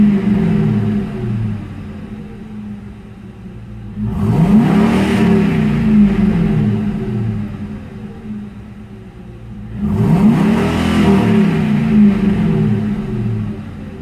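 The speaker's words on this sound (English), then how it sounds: "Now let's rev it up a bit." A Ford Mustang engine idles with a steady low rumble, then revs up twice, each blip rising sharply and falling back to idle several seconds later, loud and near.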